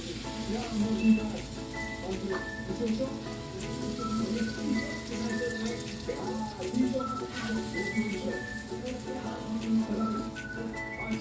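Eggs and hotdogs fry in a pan for breakfast, a steady crackling sizzle with scattered pops running the whole time, close and moderately loud, with some faint talk mixed in.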